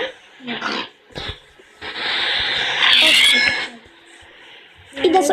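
Short grunting oinks from a Minecraft-style survival game pig in a pool, a few separate bursts mixed with other game noises and people talking.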